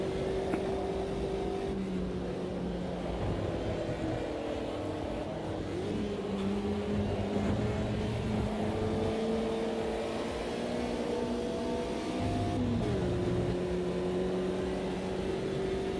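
Race cars in the sim game Automobilista 2 give a continuous engine drone that rises and falls in pitch as the car accelerates and shifts gears, with other cars audible around it.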